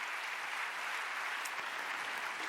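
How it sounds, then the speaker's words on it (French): An audience at a social psychology lecture in Lyon claps for the speaker's summary, an even, continuous hiss of many hands that holds at a steady level throughout. "on peut vous applaudir pour ce résumé"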